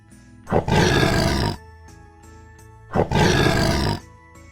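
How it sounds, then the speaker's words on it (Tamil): Two loud, sustained roars of a big cat, each lasting about a second, separated by a short gap with low rumbling tones beneath. "புலி உருமும். புலி உருமும்."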